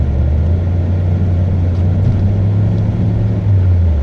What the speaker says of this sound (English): I'll show you what traction control does at full throttle.